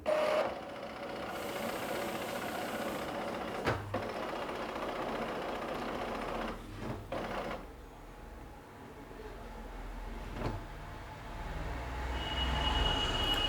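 An Epson L3210 ink tank printer runs its initialization cycle, a steady mechanical whirring and grinding hum with a few soft clunks, close and continuous with no one talking.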